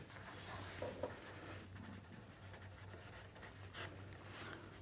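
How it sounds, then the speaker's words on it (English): Pen or marker writing a remark by hand during a mathematics lecture, a soft continuous scratching with a faint background hum and one brief louder tap near the end; no talking. "So, let me write this as a remark here."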